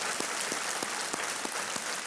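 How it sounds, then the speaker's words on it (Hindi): A studio audience claps together at a game show taping, steady and fairly faint, with sharper individual claps standing out at regular intervals. "तालियों के साथ इनका स्वागत किया जाए।"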